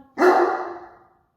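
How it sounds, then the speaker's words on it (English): A single close, loud bark from a pet dog inside a house, one sharp burst that trails off within about a second, followed by silence. "Can anyone make him stop barking?"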